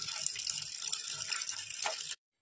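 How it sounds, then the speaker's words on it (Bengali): Methi (fenugreek) greens are washed in water, with a close, steady splashing and swishing that churns evenly and then cuts off abruptly. "আমি শাকটা ধুয়ে নিচ্ছি।"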